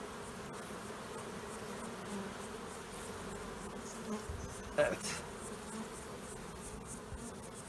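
A dense, steady buzzing of many bees fills the air throughout, with a brief clatter midway and a single short spoken word.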